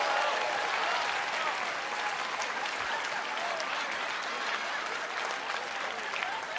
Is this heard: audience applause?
yes